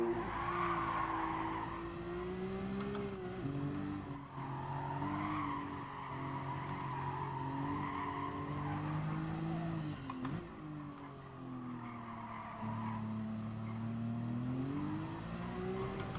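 A boosted race car in GT Sport drones loudly with a rising and falling engine note as it brakes and accelerates through corners, while tires squeal and skid in repeated stretches.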